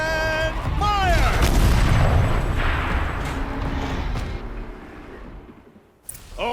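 A turret fires in the video game Horizon Zero Dawn Remastered, a loud, heavy booming blast with a rumbling tail, preceded by mechanical whine and mixed with game voices and music.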